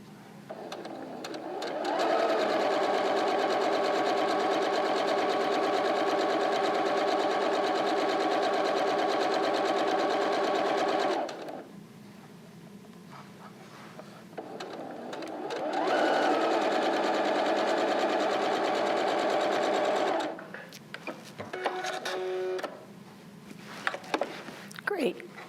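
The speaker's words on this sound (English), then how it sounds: "do the same thing with your lining pieces, stitching that curved seam" A sewing machine stitches the curved seam of a fabric face mask lining, running in two long steady whirring bursts, close and loud, with a short pause between them and brief clicks at the end.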